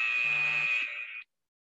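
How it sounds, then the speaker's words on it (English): A loud electronic buzzer at a Tabata strength workout drones with a steady tone for just over a second, then cuts off abruptly into silence. "Warning buzzer coming."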